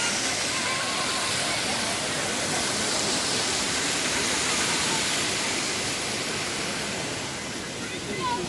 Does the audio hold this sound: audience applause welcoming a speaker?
no